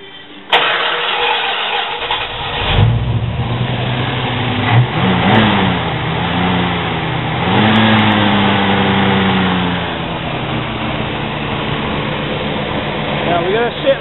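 A Plymouth Road Runner's 318 V8 fitted with a Hughes Whiplash cam cranks and fires up, then runs with a lumpy idle and throttle blips while someone talks over it.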